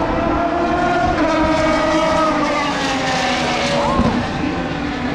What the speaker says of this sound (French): Ça c'était une vraie Formule 1 ça.